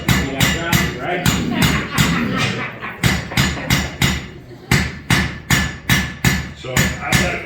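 A hammer strikes a steel Dutch oven lid lifter at a forge in a steady series of sharp, loud, close blows, with short pauses between bursts of quick repeated strikes.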